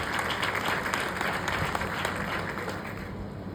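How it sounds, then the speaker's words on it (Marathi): An audience claps steadily for pakhawaj player Mangesh Maharaj in a short, dense burst of applause at an even level. "त्या मंगेश महाराजांसाठी सर्वांनी जोरात टाळ्या वाजवायच्या."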